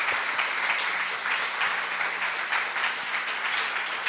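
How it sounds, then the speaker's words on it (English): A museum conference audience applauds panel speakers at an opening session, the dense, even clapping holding steady and fairly loud throughout with no speech over it. "Please give our speakers a round of applause."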